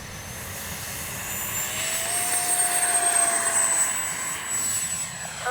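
A Freewing F-22 radio-controlled jet takes off on a runway in a crosswind, its steady electric ducted-fan whine rising in pitch as it accelerates and climbs away, loud and continuous without speech.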